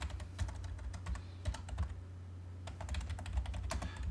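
Rapid, light keystrokes on a computer keyboard while entering values in AutoCAD, steady clicking close up in a quiet room with no talking.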